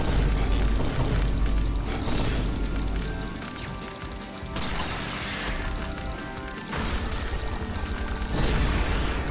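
Repeated deep booming blasts from bombs in The Binding of Isaac-style game action, loud and dense with crashing debris, continuous through the clip with a brief dip midway.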